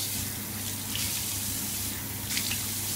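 Water from a bathroom sink tap runs in a steady, close hiss for face washing, with a couple of faint splashes as hands move through the stream and no one speaking.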